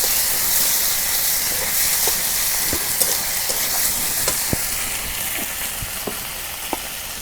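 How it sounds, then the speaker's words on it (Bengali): Ground spice pastes (coriander, cumin, ginger-garlic) fry in oil with chopped onion and green chilli, making a steady close hissing sizzle, with sharp little spits and occasional spoon clicks while stirred. "মশলাগুলো আমি তেলের মধ্যে ভাজা নিই"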